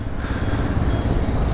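A motorcycle ridden off after a brake repair, its engine running as a steady low rumble close by, fairly loud and continuous without talk.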